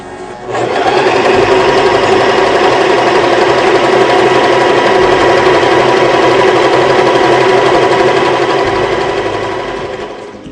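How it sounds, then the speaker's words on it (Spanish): A sewing machine runs a reinforcement stitch in one loud, steady, unbroken stretch of close mechanical whirring for about ten seconds, with no voices. "Ahora vamos a continuar con la costura de refuerzo correspondiente a la letra B."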